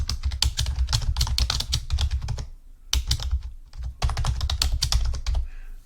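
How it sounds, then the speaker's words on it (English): Steady bursts of close computer keyboard typing, rapid clacking keystrokes with two brief pauses, entering a lot ID while running an etch recipe; no voices. "I'm going to type in"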